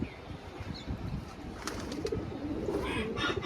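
A restless young black gola pigeon coos in soft, low repeated calls close by, over steady background noise with faint rustling.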